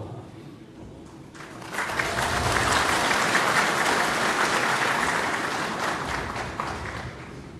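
Audience applause at a Quran recitation competition in Fergana region, a dense clapping crowd that swells in after a quiet start and holds steadily loud to the end.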